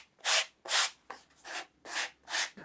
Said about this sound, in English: After I'm finished, I'm going to sand it a bit.